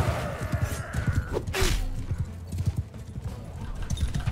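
A horse gallops with rapid rhythmic hoofbeats in a medieval battle in Mount & Blade 2: Bannerlord, close and steady under battle noise, with a short whinny-like cry partway through.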